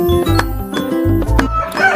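Chickens clucking and calling in a farmyard setting, a series of short, loud squawks and clucks with harmonic cries repeating over about two seconds, close to the listener with no talk.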